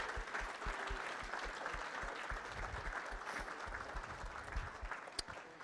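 Audience applause thanking the kitchen staff after a meal at a Catholic men's evening gathering: steady, dense clapping from a room full of people, sustained at even loudness throughout with no voices on top.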